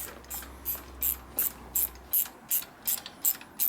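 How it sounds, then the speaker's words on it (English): A ratchet clicks in short repeated bursts, about a dozen quick strokes at an even rhythm, close and crisp, while tightening a fastener on a 1972 Harley-Davidson FLH 98ci shovelhead stroker motor. "See the appropriate length ratchet."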